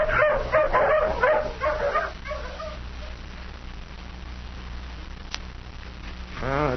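A tracking hound in an old radio drama yips, barks and whimpers excitedly, loud and close at first, then fades into softer whines over a noisy background.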